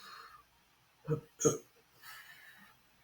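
A muffled burp held behind closed lips, after a carbonated drink, comes as two short low bursts close to the mic, with quiet talk-like sound before and after.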